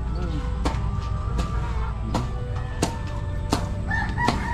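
Chickens and a rooster at a rural property under construction, with several sharp crows and clucks repeating through the clip over a steady low background hum and quiet talk nearby.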